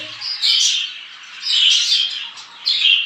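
Bright, high chirping bird calls in three bursts, close and fairly loud, with no talking, from male birds courting in a cage and striking the wires during breeding season.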